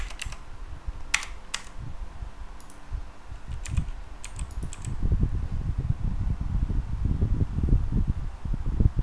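Keys clicking on a computer keyboard during a PC game session, a few sharp taps standing out over a low, steady rumble of background noise and game sound.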